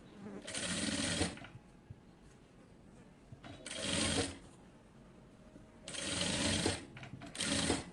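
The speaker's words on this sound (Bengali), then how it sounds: "এবার হচ্ছে আমি এই পাশটাও হচ্ছে সেলাই করে নেব" Sewing machine stitching a zip onto fabric, running in four loud, close whirring bursts of about a second each, separated by quieter pauses, with no talking.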